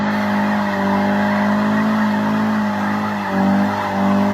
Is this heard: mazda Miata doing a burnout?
yes